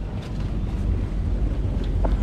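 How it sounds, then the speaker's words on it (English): Underwater-muffled exhaust of a boat engine gives a low, steady rumbling gurgle near the dock, broad and noisy with a wind-like wash over it. "This is the exhaust of the boat. The mufflers basically come out underwater."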